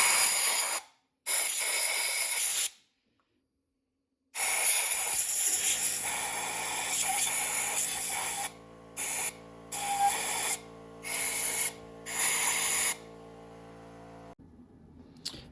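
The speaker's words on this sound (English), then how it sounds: "I just want to blast some air down there and just make sure there's no bits of dust and crap that's going to fall into the cylinders" Short blasts of compressed air blown into the spark plug wells of a 1990 Kawasaki ZXR 750, several loud hissing bursts separated by silences, the later ones shorter and more rapid over a low steady hum.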